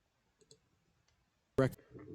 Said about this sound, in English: To hear that clicking noise again, but still nothing is there